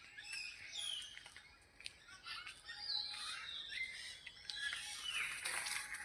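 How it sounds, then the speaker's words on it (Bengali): Small birds chirp and twitter outdoors on a cloudy day with light rain, thin high calls scattered throughout, moderately near, with no voices. "দেখো পাখিগুলো কিচকিচ করছে"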